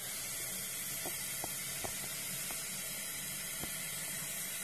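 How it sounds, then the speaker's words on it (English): Hot water runs from a tap into a container holding honey for mead, a steady faint hiss and splash with a few small clinks scattered through it. "Start filling up with some hot water."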